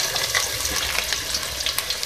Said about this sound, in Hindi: सबसे पहले ऑयल में प्याज डालेंगे